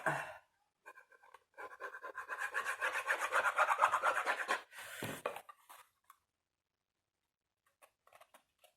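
Cardboard advent calendar boxes made from store-bought packaging being glued and pressed together, with rapid scratchy rubbing strokes building over a few seconds, then a sharp rustle and quiet.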